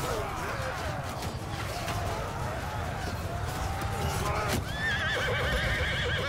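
A horse in the video game Mount & Blade II: Bannerlord clip-clops steadily amid battle noise, then lets out a loud, close whinny over the last couple of seconds.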